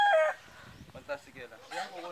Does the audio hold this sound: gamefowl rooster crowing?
yes